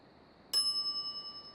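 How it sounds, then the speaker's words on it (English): A service counter bell in the Monkey Island video game, a single crisp ding that rings out and slowly fades over a quiet background. "I step away from the counter for 2 seconds and some idiot's already ringing that stupid bell."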